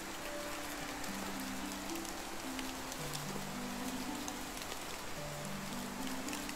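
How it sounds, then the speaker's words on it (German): Steady rain falls in the medieval survival game Medieval Dynasty, an even hiss of drops on surfaces with a soft, low, stepped music line running beneath it throughout. "Warum regnet es schon wieder?"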